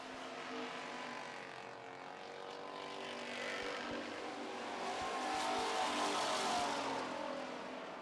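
Street stock race cars roar around an oval track in a heat race, a steady distant engine drone that swells and fades as the pack passes, with no talk.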